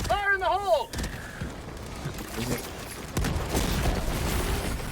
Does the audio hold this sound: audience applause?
no